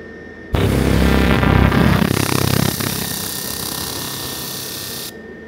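A home garage laser engraver cuts through 0.8 mm carbon steel, a steady loud buzzing, humming whine that starts abruptly, grows rougher for a couple of seconds, then settles into an even drone before cutting off.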